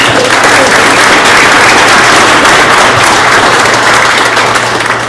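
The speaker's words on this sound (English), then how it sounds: "Let's give them a round of applause." Mayors' luncheon audience applauds the caterer, loud, dense clapping filling the room at close range and holding steady for several seconds before easing slightly at the end.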